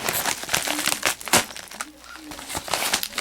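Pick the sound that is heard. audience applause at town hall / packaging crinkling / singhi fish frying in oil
packaging crinkling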